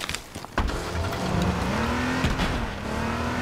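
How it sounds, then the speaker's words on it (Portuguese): Police car driven in the H1Z1 video game, a loud engine revving and accelerating with tire squeal, a sharp start followed by a sustained rising and falling motor drone. "E agora sim, eu vou estar de carro da polícia."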